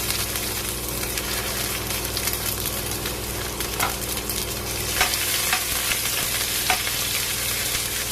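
Tomatoes stirred into a pan of frying vegetables with squash for a Visayan vegetable dish, making a continuous sizzle with scraping and clacking stir strokes that grow more frequent in the second half.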